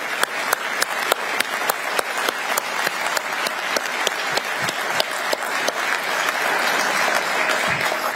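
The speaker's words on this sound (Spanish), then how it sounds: "Frente a este Congreso, le decimos gracias y le aplaudimos." Applause in the chamber of Paraguay's National Congress, sharp individual claps standing out over a broad roar of hands, steady and moderately loud throughout, swelling slightly toward the end.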